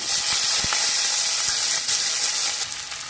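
Cut potatoes tumble into hot mustard oil seasoned with nigella seeds, setting off a loud, steady sizzle and hiss of frying that fades slightly toward the end, with no talking.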